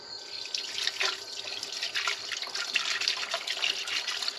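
Diesel sprayed from a small electric pump washes out the bottom end of a Briggs & Stratton engine, producing a steady hissing splash with dripping and trickling liquid, close and continuous.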